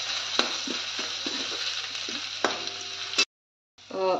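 Ginger garlic paste with whole spices sizzles steadily in a pan for palak paneer, a broad close hiss broken by several scraping stirs, then cutting out for a moment before the sizzle returns.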